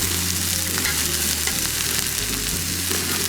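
Red cabbage and bok choy frying in a fry pan for a quick cook, a steady close hiss of sizzling with faint stirring scrapes, continuous and fairly loud, with no voices.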